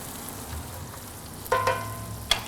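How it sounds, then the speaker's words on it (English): Cajun seasoning hits hot grease in a pot, giving a faint, steady sizzle with a couple of brief clinks and scrapes near the end. "When those seasonings hit that hot grease, it really opens them up"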